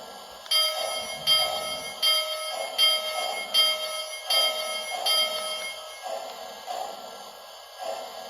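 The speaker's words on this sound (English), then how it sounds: "Now here's the bell." A Lionel Chesapeake and Ohio toy locomotive bell rings in a steady series of bright clangs, roughly ten strikes at an even pace, close and clear with no talk.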